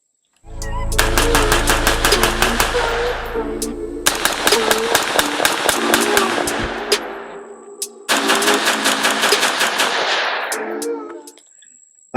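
Palmetto State Armory JAKL 13.7-inch 5.56 rifle with skeleton stock firing three long strings of rapid, sharp shots in close succession, each burst lasting several seconds, loud and close with no talk.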